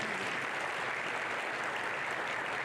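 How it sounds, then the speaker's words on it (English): A farm workshop audience gives a short, fairly faint round of steady applause, a brief uniform patter of many hands with no talking over it. "Give Timothy a round of applause"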